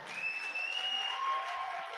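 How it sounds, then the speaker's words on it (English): Audience applause at a conference session on agorism and parallel networks, a steady round of clapping at moderate level for two seconds, with a faint background voice. "give a round of applause for Ramiro and the Above Phone."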